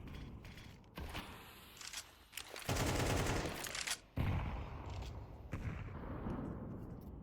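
Gunfire in the video game Counter-Strike: bursts of rapid shots and sharp cracks spread across the clip, some dense and loud and others thinner, with mechanical clicks between them.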